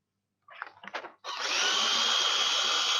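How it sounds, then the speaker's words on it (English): A couple of short rustles of paper, then a motorized shredder kicks in and grinds steadily, loud and close, with no speech. "It only takes a minute to shred papers with personal information"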